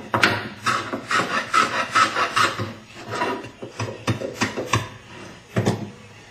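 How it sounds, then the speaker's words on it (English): Hand tool shaving a bevel on a wooden tenon, a series of close, rasping scraping strokes in quick rhythmic bursts, then a few sharper separate strokes with brief pauses between. "let me finish preparing my tenon. A little bevel action."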